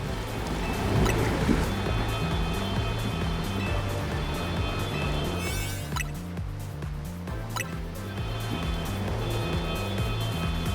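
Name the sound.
waterfall in the video game Pokemon Legends: Z-A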